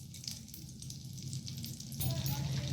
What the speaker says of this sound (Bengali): সেই কড়াই আমি 2 থেকে 3 চামচের মতো সাদা তেল দিয়েছি, আর তার সাথে অল্প একটুখানি বাটার দিয়ে দিলাম।